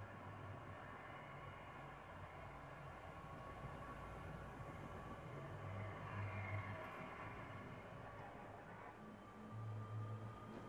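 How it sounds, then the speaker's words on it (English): Train rolling along in the Apex Legends winter express mode, a steady rumbling drone with rhythmic low clatter that swells slightly midway and near the end, heard alone without voices. "get on the train, because we're moving"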